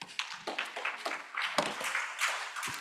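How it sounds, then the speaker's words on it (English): Sparse, uneven clapping from a small audience after a talk at the GHACOF 66 climate outlook conference, a thin scatter of separate claps that stays quiet and never builds into full applause. "You didn't clap very well."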